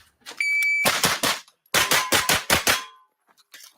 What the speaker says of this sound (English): You hear him hitting metal.